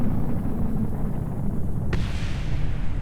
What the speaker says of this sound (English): that explosion was just our old rocket hitting the ground there